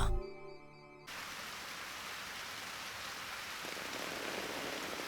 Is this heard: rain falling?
yes